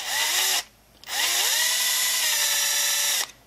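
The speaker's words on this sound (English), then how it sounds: "I am going to have to drill out this rivet as well." A power drill bores out a rivet on a Matchbox Ferrari Berlinetta model car, whining loudly in two close bursts with a brief pause between, its pitch dropping as the bit bites.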